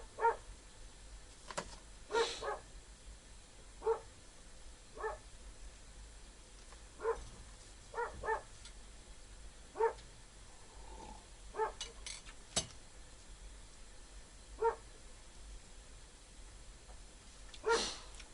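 Dogs bark at a distance around a remote winter hut, a series of short, faint yelps spaced every few seconds against a quiet outdoor background.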